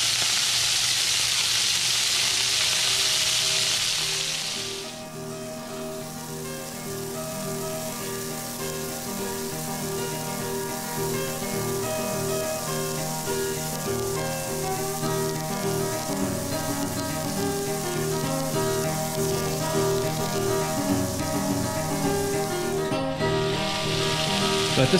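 Scallops sear in a pan of browning butter, giving a steady bright sizzle for the whole stretch. The crackle flares louder at the start and end, with a continuous hiss between, and no one speaks.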